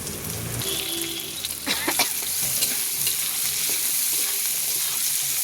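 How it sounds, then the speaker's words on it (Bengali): Potatoes and carrots fry with onion in a pan, a steady close sizzle with spatula stirring and scraping strokes over the constant crackle of hot oil. "গাজর আলু আমি একসঙ্গেই ভাজতে থাকি।"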